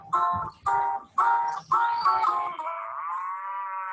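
Cattle mooing in an animated story about four cows and a tiger: three short lowing calls in quick succession, then a longer drawn-out moo, loud and close with no talk over it.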